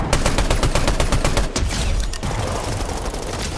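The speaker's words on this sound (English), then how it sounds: "Bro, we're getting shot at from the wall." Rapid bursts of automatic gunfire in a Fortnite ranked match, loud dense volleys of close shots crackling continuously with no pauses.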